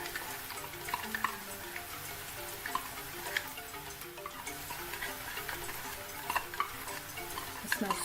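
Onion, garlic and tomato paste frying together in a pan for vegan Nigerian jollof rice give a steady, soft sizzle with scattered ticks and crackles, heard alone at close range.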